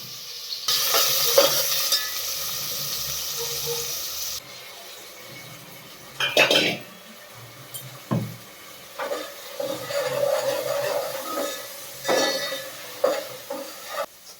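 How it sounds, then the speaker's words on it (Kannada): Whole spices (cinnamon, clove, cardamom) and green peas frying in oil for a fenugreek-leaf pulao, a loud hissing sizzle at first, then quieter frying broken by repeated spoon stirs and clinks against the pan, no talk. "ಈಗ ಬಟಾಣಿ ಹಾಕಿದ್ದೀನಿ. ಬಟಾಣಿ ಚೆನ್ನಾಗಿ ಫ್ರೈ ಎಣ್ಣೆನಲ್ಲಿ ಫ್ರೈ ಆಗೋಷ್ಟರಲ್ಲಿ"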